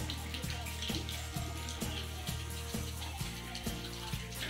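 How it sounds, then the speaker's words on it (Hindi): Rain falls heavily and steadily outdoors during a windy downpour, a continuous loud wash of water with repeated pulsing surges, while a voice talks over it. "तो बारिश दिखाता हूँ आपको।"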